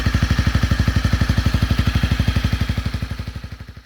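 A Honda CRF250 Rally motorcycle engine idles while warming up to temperature after a clutch upgrade, a close, steady single-cylinder thump with even, rapid pulses that fade slightly toward the end.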